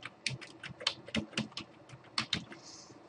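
Keys tapped on a computer keyboard during a Camtasia editing tutorial, a quick run of close, light clicks in uneven bursts with no voice over them.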